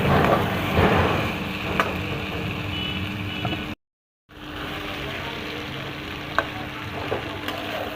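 Spices sizzle and fry steadily in a pan while being stirred, a continuous close crackle with scraping movements, broken by a brief silent gap midway.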